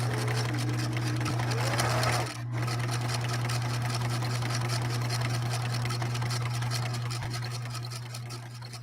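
A Singer 6233 sewing machine runs a steady stitch, a constant motor hum with a brief dip in the middle before carrying on evenly to the end.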